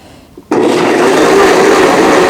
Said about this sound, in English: Now grind it.